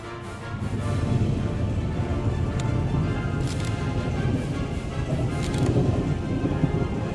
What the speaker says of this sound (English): Spectacular lightning flashes lit up a widespread storm near Corydon, Iowa.